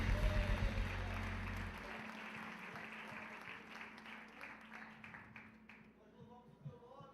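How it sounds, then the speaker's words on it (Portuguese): A church congregation applauds during an evening service, a faint, sustained patter of clapping that follows a low musical tone at the start and thins out by the close. "Aplauda o Senhor nessa noite"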